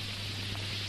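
Steady rain pours down at night outside a house door in a 1995 Hindi action film, a continuous even hiss with a low hum beneath and no speech.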